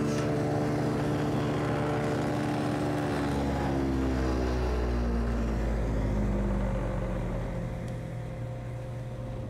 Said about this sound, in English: what I'm going to do is cut a tenon on my stretcher that goes on the bottom